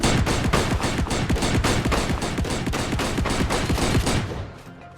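Rapid, sustained automatic gunfire from a modded weapon in the ARK survival game, Additional Munitions mod, a steady loud burst of closely spaced shots that cuts off near the end.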